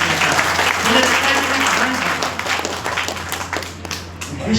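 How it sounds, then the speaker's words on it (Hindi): Audience applause after a Hindi poetry recitation about Lord Krishna, a burst of dense clapping that thins out over a few seconds, with some voices mixed in. "तालियां फिर भी आपकी"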